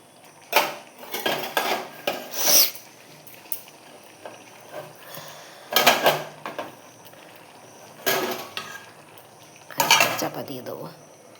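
A lid set down on a cooking pot on a gas stove, giving a few sharp metallic clanks and rattles spaced across the stretch, with quieter kitchen noise between them.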